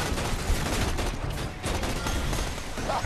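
Dense, continuous gunfire from shooting enemies in Borderlands 2, a steady fusillade of overlapping shots filling the whole stretch at an even, fairly loud level with no clear talk.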